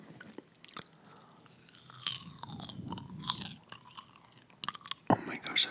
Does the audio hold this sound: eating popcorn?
yes